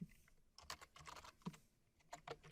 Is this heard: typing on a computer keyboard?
yes